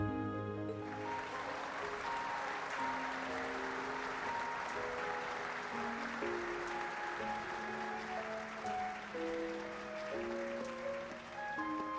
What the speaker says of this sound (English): let us give them yet another round of applause